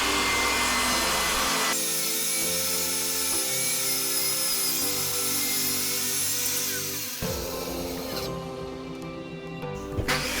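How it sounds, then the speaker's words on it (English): A saw rips wooden side panels to final height for a small jewelry box, a steady loud whine with tonal hum that holds, then drops and shifts as the cut finishes, ending with light knocks of handling. "And here I am ripping those side panels to their final height."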